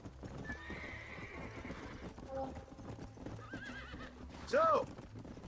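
Horse hooves clip-clop in Red Dead Redemption as the horse gallops and jumps, ending in a loud whinny near the close, with a faint voice under the game sounds.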